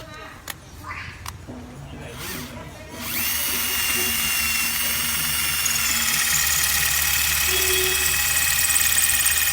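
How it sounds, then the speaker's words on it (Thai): A 36V cordless drill bores into hard old red brick and mortar, its steady high whine loud and sustained after a few sharp starts and handling knocks, with someone talking faintly over it. "อ่ะเดี๋ยวเราลองเจาะปูนให้ดูนะคะ"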